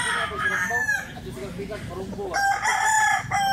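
A young rooster (stag) crows loudly and close by, one long drawn-out call followed by a second crow, with faint clucking in between.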